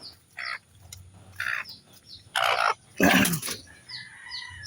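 Pet chickens and chicks cluck and peep close by in short separate bursts, with a louder squawk near the middle and small chirps at the end.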